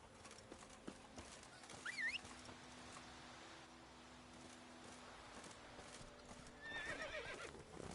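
Roach, the horse in The Witcher 3, gallops with rapid hoof clatter and gives a couple of distinct neighs, one early and one near the end, over a quiet ambient background.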